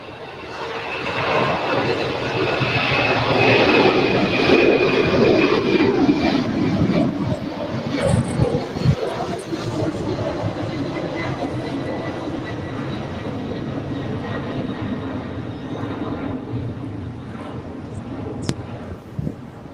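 A Turkish Airlines Dreamliner jet departing from LAX, a loud, broad roar that swells and then slowly recedes, with voices speaking over it.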